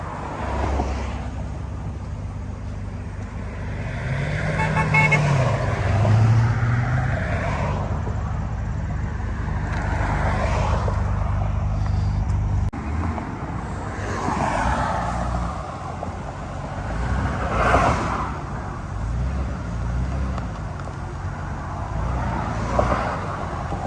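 A Nissan R32 GT-R engine rumbles as the car drives away and gradually recedes, with a low drone fading over time and faint wind or background noise; no clear talking.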